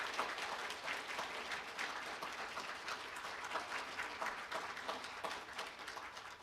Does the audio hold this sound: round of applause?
yes